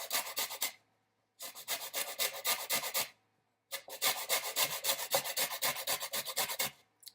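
A lime is zested by hand on a grater, quick rhythmic rasping strokes in three bursts separated by short pauses, close and alone.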